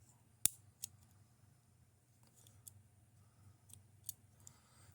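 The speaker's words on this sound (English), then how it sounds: "We just swapped out a comb for scissors and back again." Small clicks of Roxon Flex multitool scissors being swapped in and out of the handle, a sharp snap followed by several fainter ticks, close and quiet against a low background hum.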